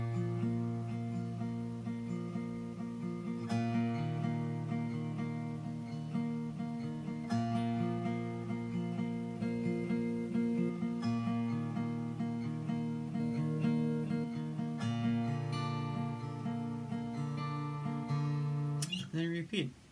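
A steady fingerpicked guitar pattern from a song repeats with ringing low bass notes and plucked upper strings, continuous and fairly loud with no talking.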